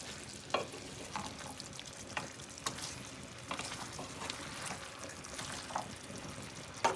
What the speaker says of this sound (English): I add it now because I want to cook out the rawness of the tomato paste.